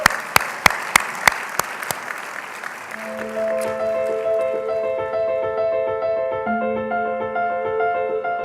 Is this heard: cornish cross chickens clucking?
no